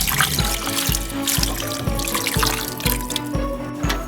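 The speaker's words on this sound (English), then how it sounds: "Just gonna pour that right over." Brown sugar, honey and garlic sauce is poured over chicken in a slow cooker, making a steady trickling, dribbling sound with a faint regular pulsing underneath, close and moderately loud throughout.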